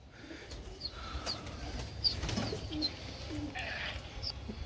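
Pet pigeons on a rooftop coo softly and repeatedly, with brief flutters of wings, nearby over faint outdoor background noise.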